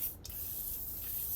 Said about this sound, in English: WD-40, just spray the whole thing.